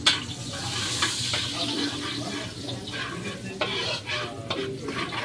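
Garlic sautés in a pan for vegetable lumpia, giving off a dense, continuous sizzle with scraping stirs and occasional splutters, loud and close with no voices.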